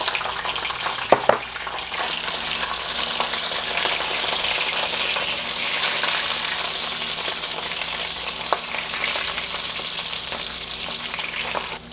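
Shrimp heads frying in oil in a pan leave a steady hiss and bubbling sizzle close by, broken by a couple of sharp clatters near the start.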